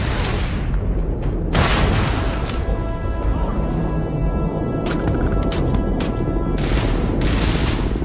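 Starfield combat: a dense, loud wall of continuous gunfire and booming blasts, with sharper rapid shot bursts breaking through toward the end, chaotic and close throughout.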